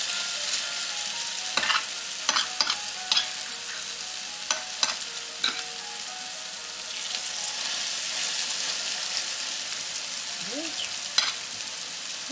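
Continuous frying sizzle from a pan of potato pancakes with scattered pops and crackles, close by and without talk.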